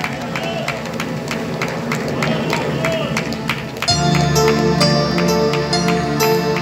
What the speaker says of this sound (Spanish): Dale ese aplauso fuerte al que vive.